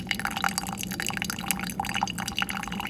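Coffee pouring into a vessel while making homemade coffee, a steady close liquid stream with dripping and splashing texture throughout, no voices.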